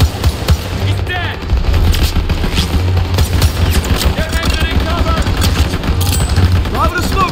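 Machine gun fire in Call of Duty: World War II rattles in dense bursts amid booming explosions and battle chaos, with voices shouting over the steady combat din throughout.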